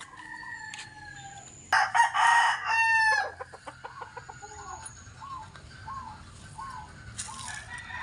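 A rooster crows loudly and close by, followed by a series of rhythmic clucks from chickens, with other birds chirping faintly in the background.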